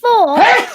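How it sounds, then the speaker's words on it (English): A single loud, close sneeze, a voiced rising-and-falling burst lasting under a second. "Bless you."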